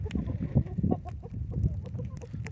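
Hens outdoors in a snowy Canadian winter morning cluck and murmur in short, uneven bursts, close and fairly loud, with several birds overlapping.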